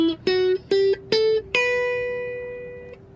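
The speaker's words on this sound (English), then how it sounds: "In ascending order, B Phrygian sounds like this." A guitar climbs the B Phrygian scale, sounding five clean single notes in a steady ascending run; the last note rings out long and slowly fades, with nothing else audible.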